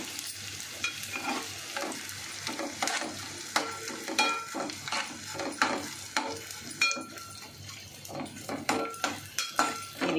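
Edible gum (gond) fries and puffs in hot ghee, crackling steadily while a utensil repeatedly clinks and scrapes against the pan in irregular taps, close up with no speech.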